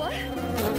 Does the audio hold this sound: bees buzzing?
yes